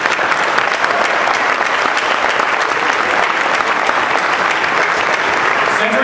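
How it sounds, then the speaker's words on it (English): A conference audience of real estate agents gives a loud, sustained round of applause, dense clapping filling the hall evenly from start to finish. "I want to thank you and give you a round of applause for everything that you are for this organization"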